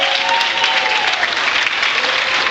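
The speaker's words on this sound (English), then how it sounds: "they deserve another round of applause" A graduation audience at Albania Christian Academy applauds the graduates, a dense, steady wash of many hands clapping at close range that fills the whole stretch without pause.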